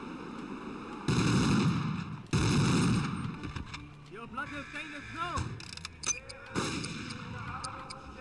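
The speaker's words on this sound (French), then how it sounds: "On va tirer à la mitrailleuse." Rapid machine gun bursts from a war video game come in two loud, dense blasts near the start, followed by quieter mechanical clatter and scattered effects.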